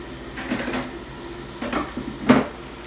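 Metal kitchen utensils clink and clatter as a spoon is grabbed near a stove where onions are being sautéed, with three short, close rattles spread across a quiet background.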